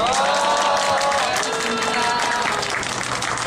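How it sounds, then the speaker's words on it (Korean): Applause from a gathering of striking union workers and writers at a Labor Day week solidarity event, a steady dense wash of clapping throughout, with a voice speaking briefly over it. "서로를 위해서 크게 박수치고 마치겠습니다"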